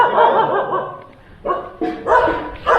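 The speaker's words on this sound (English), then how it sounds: "And here we have like 5 stray dogs." Several stray dogs bark outdoors in India, a few loud overlapping barks and yips after a longer stretch of growling, whining noise.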